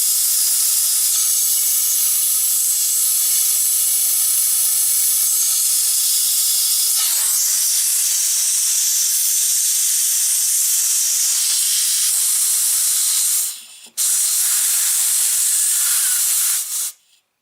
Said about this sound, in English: Now just because I can, I'm going to blow a little bit of air through here.